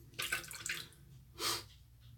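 Shaving brush rinsed under a running tap, two short gushes of water splashing close by with a pause between, quiet otherwise.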